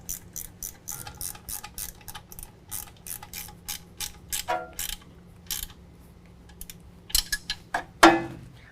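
Ratchet tightening supplemental and factory hardware on a Fabtech 6-inch coilover lift kit for a 2019 GMC Sierra 1500, a steady run of rapid metallic clicks in repeated bursts, close and fairly quiet, ending with a louder clank.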